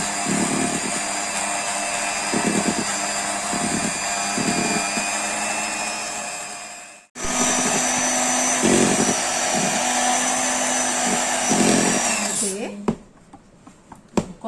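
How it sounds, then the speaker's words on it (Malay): An electric hand mixer, newly bought, beats cassava tapai cake batter with a steady loud whirring whine. It cuts out briefly midway, restarts and stops near the end, with faint voices in the background. "Korang dengar tak saya punya mixer dah berbunyi?"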